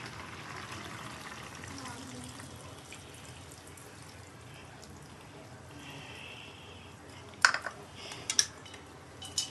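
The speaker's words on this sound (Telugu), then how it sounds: "కొంచెం ఇలా తీసి మనం చింతపండు పులుసేద్దాం." Tamarind juice is poured into a simmering pot of okra and brinjal curry, a soft, continuous liquid trickle and bubbling at low level, ending with a few sharp clinks of a utensil.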